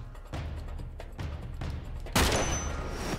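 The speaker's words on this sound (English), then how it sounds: "Little rocket launcher fire." Rocket launcher fire in Uncharted 3, booming over a busy layer of game gunfire and rumble, with a sharp loud blast near the end followed by a crackling roar.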